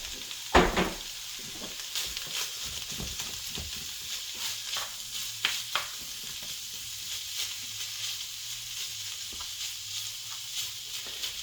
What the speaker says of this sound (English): as you cook the ground beef up, you want to get it down as small as possible